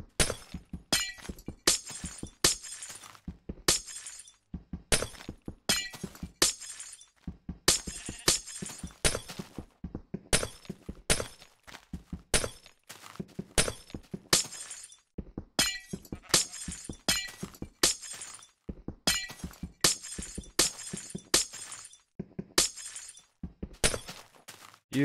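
Glass blocks breaking in the video game Minecraft: a long run of sharp, crisp shattering crashes in rapid bursts with brief pauses between groups, loud and close, with no talk.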